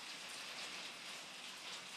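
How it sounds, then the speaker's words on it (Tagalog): Light, steady rain falls without pause in a broad, even hiss that holds the same level throughout, with no voices over it. "Ito yung tipong ulan na hindi titila hanggang maghapon na ito."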